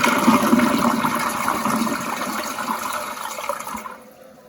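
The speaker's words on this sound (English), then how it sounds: "So we'll do the full flush right now." A dual-flush, tall comfort-height toilet does a full flush, a loud rushing surge of water that swirls and gradually fades out over about four seconds, heard up close.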